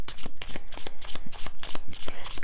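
Tarot cards shuffled by hand up close, a brisk run of rapid riffling bursts in quick regular rhythm, loud and alone with no talk.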